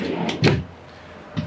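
A drawer in the kitchen of a 2023 Forest River Cherokee Wolf Pack 27PACK10 toy hauler travel trailer slides and bumps shut, giving a pair of short knocks close together, then a softer tap a moment later.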